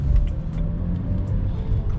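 A car driving along a dark road at night, with a low, steady rumble of engine and tyre noise from inside the cabin and no talking.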